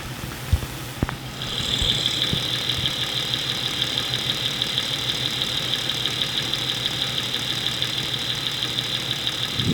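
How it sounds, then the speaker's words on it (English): Car engine idling, listened to near the valve cover stud and upper valve train, with a steady high whine over a low, even rumble and a couple of light knocks at the start. "Now we'll listen for white, the valve cover stud or upper valve train."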